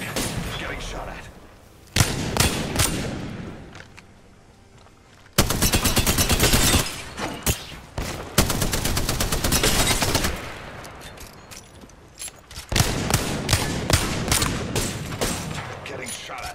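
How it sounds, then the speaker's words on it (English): Heavy gunfire in the battle royale video game Apex Legends, with loud sustained bursts and volleys that keep cutting in and out, broken by short quieter gaps and scattered thuds. "Getting shot at."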